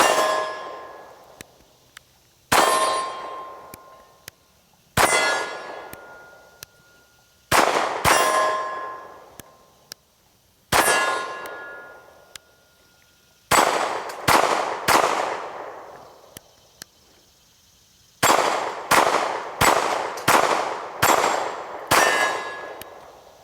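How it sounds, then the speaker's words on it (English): A SAR 2000 pistol fires at a range, each loud shot followed by a ringing clang of rounds striking steel targets, starting as spaced single shots and ending in quick strings of five or six, with no talking. "we're gonna go ahead and we're gonna do a little bit of shooting with it"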